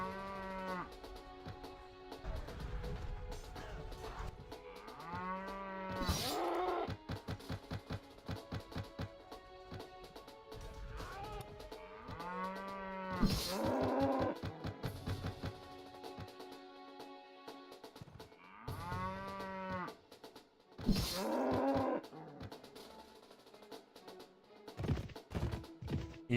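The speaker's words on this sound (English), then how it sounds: "Cattle herd, come back here." Cattle moo repeatedly in the Mount & Blade Floris Expanded video game. Several long, low moos come at intervals over the whole stretch, mixed with clicking and tapping game sounds.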